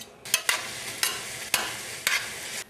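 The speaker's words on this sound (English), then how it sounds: "now we want to saute these together in our melted butter" Onions and apples sauté in melted butter in a pan, giving a steady soft sizzle broken by sharp stirring scrapes about every half second, close and fairly loud, with no talking.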